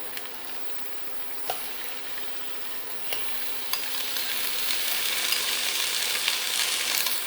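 Steady sizzling and crackling of meat pieces frying in a pan, with occasional soft clinks and stirring, gradually growing a little louder.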